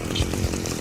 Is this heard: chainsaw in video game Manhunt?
yes